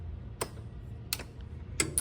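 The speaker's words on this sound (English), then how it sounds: "you can hear the solenoid activating" Internal solenoid of a lithium golf cart battery on a KANDI cart clicking as the unit is switched on: three faint, sharp clicks spaced about a second apart over a low background hum.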